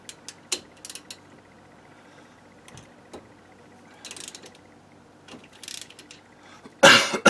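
Wrench ratcheting on a brake caliper bolt of a 2008 Pontiac G6 during front brake work, heard as scattered sharp clicks and short ratchet bursts close by, ending in a loud rasping burst.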